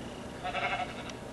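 Sheep in a video game bleating once, a faint, short wavering call that swells briefly and fades, with a tiny sharp click just after, over a quiet background hum.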